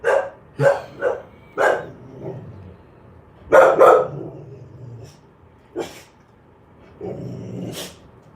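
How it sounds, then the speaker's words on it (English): A dog barks in sharp bursts with low growling between them, close and loud, about half a dozen barks spread irregularly over several seconds. "Why are you growling?"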